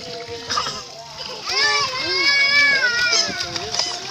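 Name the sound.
water splashing while children swim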